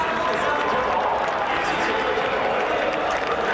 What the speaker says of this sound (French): Et oui, les applaudissements de toute une équipe.